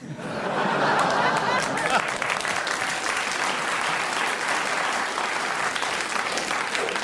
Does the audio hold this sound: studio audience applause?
yes